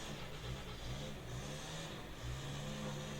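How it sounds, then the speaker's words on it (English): A leaf blower runs outdoors at a distance as a faint, wavering motor drone with slight rises in pitch, heard alone with no talking. "blowing with this blower that he does it every week"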